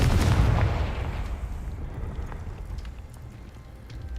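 Confringo spell explosion in Hogwarts Legacy, a single loud booming blast up close that rolls away into a long fading rumble.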